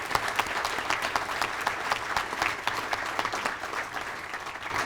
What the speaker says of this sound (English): I think that deserves another big round of applause.